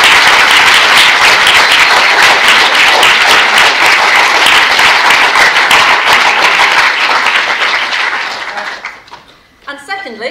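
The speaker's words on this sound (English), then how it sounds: "So just stand up and give yourselves a round of applause." Sustained, dense applause from a large conference audience at an industrial biotechnology careers event, loud and steady for about eight seconds before thinning out into scattered claps at the end.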